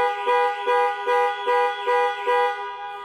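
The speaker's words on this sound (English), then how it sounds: "the horn will sound and the hazard lights will flash" A Range Rover Velar's panic alarm sounds its horn in a steady repeating pattern, seven short blasts evenly spaced, loud and close.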